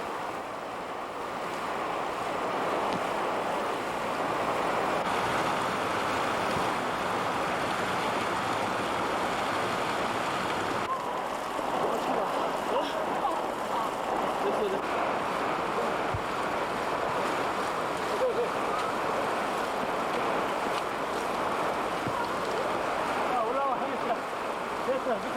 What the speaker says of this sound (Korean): 워낙 물살이 세인 데다 앞을 분간하기도 힘들 정도의 폭우 때문에 개울을 건너는 데는